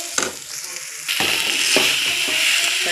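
Stuffed bitter gourd frying in hot oil, a steady close sizzle that swells louder partway through, with intermittent scraping of a spatula stirring the pan.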